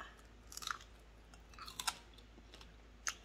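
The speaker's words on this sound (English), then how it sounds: "Man, you hear the crunching, so crunching is real" Close crunching as crispy-skinned pork belly bites are chewed, several crackly bursts separated by quieter chewing over a faint background hum.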